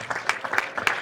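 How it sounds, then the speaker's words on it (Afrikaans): A small crowd at a Kandys Beefmasters event gives the team a brief burst of hand clapping, a quick patter of claps with no voices. "kom ons gee vir die kanduispanne baie lekker hande klap"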